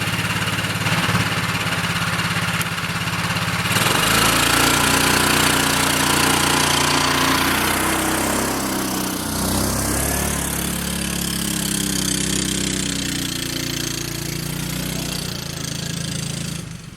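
A homemade ATV quad truck's small engine runs loudly and steadily close by, a throbbing mower-like drone that dips and rises in pitch as the load changes.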